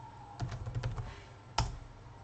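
Quick, light taps on a computer keyboard, a short burst of several keystrokes followed by one sharper click, close and faint.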